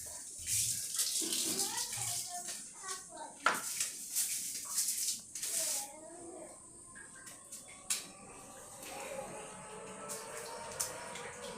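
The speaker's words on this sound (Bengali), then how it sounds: "দেখেন কোকাকোলাটারে ঢেলে আমি বর্জন করলাম।" Coca-Cola being poured out in a steady splashing, gurgling stream that runs through most of the stretch, with people talking over it.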